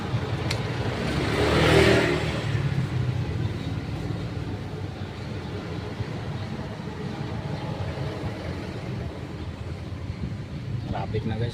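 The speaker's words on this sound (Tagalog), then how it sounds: "Traffic na guys oh." Car engines rev and idle in slow traffic on a street, a continuous rumbling drone with a louder surge near the start, steady and fairly close.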